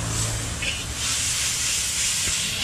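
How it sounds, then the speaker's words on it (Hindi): Chowmein fries on a hot pan at a street food stall, a loud continuous steamy hiss and sizzle filling the scene with a low rumble beneath, no clear talk. "अच्छी तरह फ्राई कर दो मैडम"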